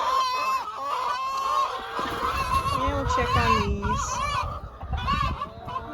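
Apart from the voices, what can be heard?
chickens in their coop on a farm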